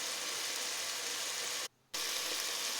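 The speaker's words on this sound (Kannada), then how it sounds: "ಇದು ಎಣ್ಣೆಯಲ್ಲಿ ಚೆನ್ನಾಗಿ ಫ್ರೈ ಹಾಕಬೇಕು ಈರುಳ್ಳಿ ಟೊಮೊಟೊ ಎಲ್ಲ ಏನಿದೆ ಚೆನ್ನಾಗಿ ಫ್ರೈ ಆಗಲಿ" Onion and tomato fry in oil for paneer biryani, giving a steady, hissing sizzle with one brief silent gap near the end and no talk.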